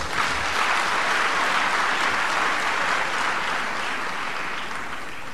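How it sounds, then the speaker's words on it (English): Sustained applause from a large audience at a 70th birthday celebration, a dense wash of clapping that holds steady and begins to ease slightly toward the end. "we should give him a round of applause"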